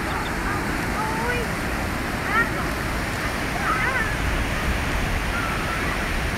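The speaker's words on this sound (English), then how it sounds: "It's pretty good sized waves." Good-sized ocean waves at Daytona Beach roll in as a constant broad wash of surf noise, steady and fairly loud, with faint bird-like chirps above it.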